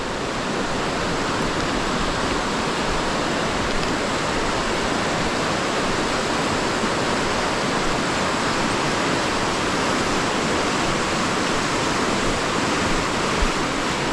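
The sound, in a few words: water coming in and going out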